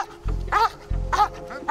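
Police dog barking during bite training, two loud, close barks about half a second apart with a growly edge, with no talk in between.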